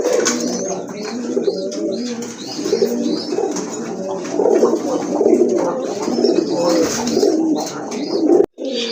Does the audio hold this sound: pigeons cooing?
yes